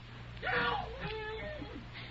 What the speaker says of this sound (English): she was screaming all wild and horrible for somebody to dig her out